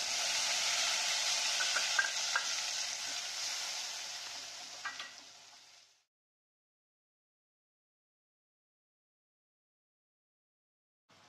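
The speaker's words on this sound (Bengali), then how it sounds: "বানিয়ে রাখা পেস্টটা তেলের মধ্যে দিয়ে দিলাম।" Spice paste hissing and sizzling in hot oil in a pan for a katla fish kalia curry, loud and steady for several seconds with faint stirring clicks, then cutting off to silence.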